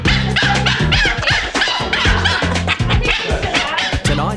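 Several puppies bark and yip over each other at a puppy school class in Bondi, loud and close, in short overlapping bursts that continue throughout.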